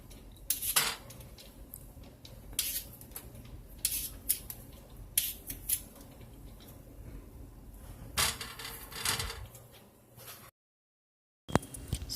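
A peeler scrapes sweet potatoes in a kitchen in repeated short, crisp strokes with small clinks, fairly quiet and close, with a brief silent gap near the end.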